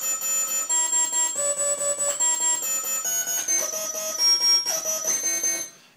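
Harsh, bright Kurzweil PC3 synthesizer tones step through a series of notes, with a thin, whistling high pitch from aliasing sliding oddly against them; no one speaks.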